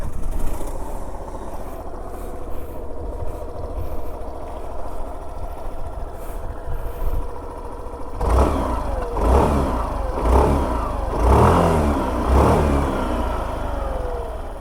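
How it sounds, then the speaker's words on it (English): A Suzuki Avenis scooter engine idles evenly for several seconds, then revs repeatedly in a series of rising throttle blips, close and moderately loud with no talk. "let me just turn on the scooter and make you guys hear the exhaust note."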